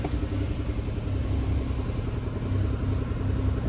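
An Isuzu Rodeo with a flashing check transmission light, earlier hit by an engine fire, idles with a steady low engine rumble close by and no talking.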